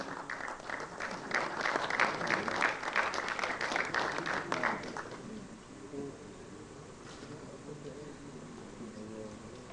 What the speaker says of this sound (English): round of applause for our galaxies of RVG alumni members, regional and central council members